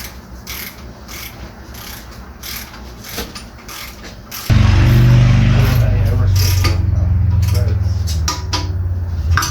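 Rapid ratcheting clicks from a torque wrench tightening baffle bolts on a small block 350 Vortec engine, close by, first alongside light rattling and then over a louder mechanical grinding hum.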